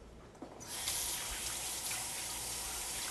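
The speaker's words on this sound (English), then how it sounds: "rinse them, like I'm going to do." Roasted sweet peppers rinsed under a running kitchen tap: a steady broadband water rush switches on after a brief quiet moment and keeps flowing evenly, fairly close, with no talking.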